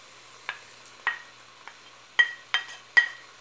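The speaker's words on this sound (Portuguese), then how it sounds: "Agora nós vamos deixar refogar um pouco." Red, yellow and green bell pepper pieces sauté in a pan for a Christmas chicken and creamed-corn fricassée, heard as soft sizzling with a few sharp stirring clicks and scrapes spaced irregularly, close and quiet.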